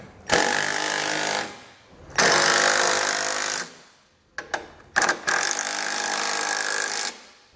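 Three long bursts of a power tool snugging trailer hitch hardware with a 15mm socket on a 2018 Ram ProMaster, each run lasting over a second, with short choppy pulses between the second and third.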